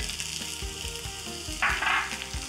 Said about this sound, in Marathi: झाकण न ठेवता ही खिचडी छान अशी परतून घेऊया